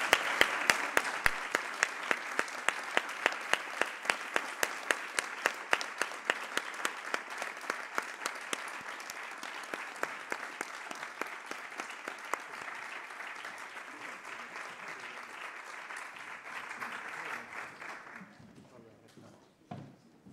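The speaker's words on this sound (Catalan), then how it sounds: "Jo us demanaria un fort aplaudiment per tot el meu equip" A loud, sustained round of applause at a university rector election results event, many hands clapping at once for the candidate's team, holding steady and then fading out toward the end.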